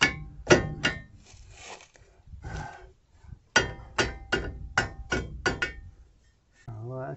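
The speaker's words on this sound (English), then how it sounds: "I'm going to use the dead blow hammer," A series of sharp, heavy thuds from a dead blow hammer striking while changing front disc brake pads on a 1994 Kia Sephia, several in quick succession, with pauses between groups and a brief low rumble at the end.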